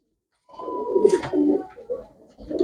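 Pigeons coo in a steady, close sequence, low rounded calls rolling one after another. The setting is a pigeon market where birds are on sale, and no voices are heard.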